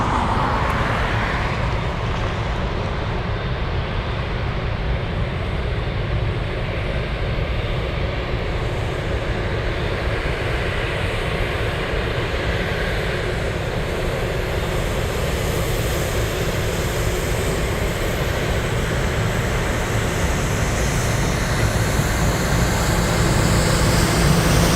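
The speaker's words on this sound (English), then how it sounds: "Let's go for the C-17. So it's definitely doing pattern work." A C-17 military transport flying pattern work at Anchorage makes a broad, continuous jet roar. It holds steady and loud throughout and swells slightly toward the end.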